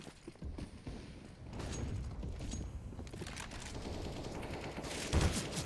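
Submachine gun bursts from blind firing in a Counter-Strike match crackle in rapid, dense volleys at moderate distance, with muffled thuds and a sharper bang near the end, no talk heard.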